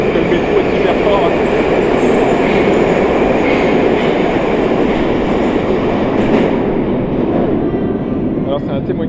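A Moscow metro train rumbles loudly and steadily through the whole stretch, a dense wheel-and-rail roar that never lets up, with a voice faintly present beneath the noise.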